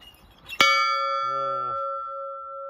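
A large bell at a seaside lookout in Kashiwazaki, Japan, is struck once with a bright clang and rings on in a long, clear sustained tone, while a voice briefly speaks beneath it.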